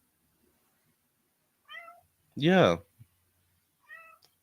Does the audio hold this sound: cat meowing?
yes